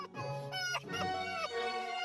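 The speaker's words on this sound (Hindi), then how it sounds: "वो जरूर मुर्गा होगा।" A rooster calls out in a drawn-out, harmonic cry lasting about two seconds, close and fairly loud, with no talking.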